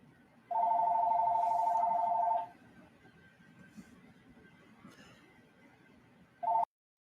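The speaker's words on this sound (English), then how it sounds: "Okay, the phone was going off crazy." Telephone ringing indoors at night: one long, steady electronic ring, then a lull of low background hum and faint voices, and a short second ring at the end.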